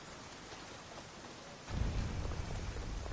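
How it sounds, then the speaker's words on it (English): A thunderstorm in the Assassin's Creed video game, with steady hissing rain and a deep rumble of thunder swelling in partway through and holding. "Alright, a gathering storm."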